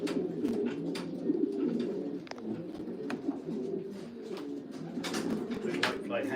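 Racing pigeons coo steadily in a loft while being basketed for a race at Honiton, soft overlapping calls with occasional wing flutters and faint handling noises close by.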